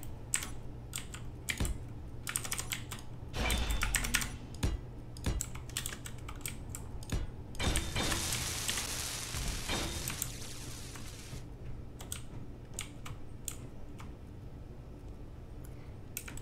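Fast, irregular clicking of a mechanical computer keyboard during a Space Engineers multiplayer session, coming in quick bursts with a denser stretch of continuous typing midway, close and clear with no talking.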